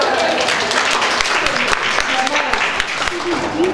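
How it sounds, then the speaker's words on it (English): A lecture audience gives a brief round of applause, moderately loud clapping that runs steadily under a person talking over it. "did we do a round of applause for you?"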